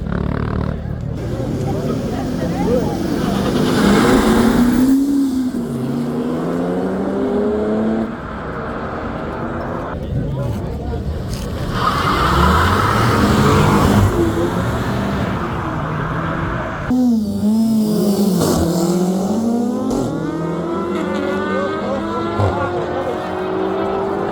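Cars street racing in Europe, engines revving and tires squealing over a continuous roar, with a crowd chattering and people talking close by throughout.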